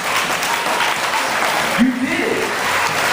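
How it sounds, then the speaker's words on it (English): An audience claps steadily and loudly throughout, with a voice calling out briefly in the middle over the applause. "Everybody under the age to stand up and clap and applaud yourselves"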